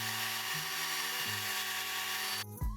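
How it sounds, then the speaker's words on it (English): A power drill with a 4mm bit bores out the front rivet on a Matchbox diecast Volkswagen, giving a steady close whine that shifts pitch a few times under load before it cuts off. "using a 4mm drill bit, I'll remove that rivet at the front of the vehicle"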